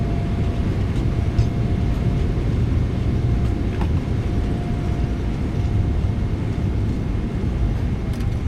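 Thrust reversers roar on a PMDG 777-200ER landing at Chicago O'Hare in a flight simulator with the Boris Audio Works soundpack, a loud, steady low rumbling blast that holds unbroken, alone.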